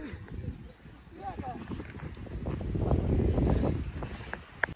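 A powerful boat engine rumbles close by under people talking, a continuous low roar with wind noise in the background.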